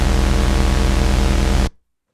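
A burst of loud, dense synthesized noise waveform from an MPC hisses steadily for under two seconds, then cuts off abruptly into silence.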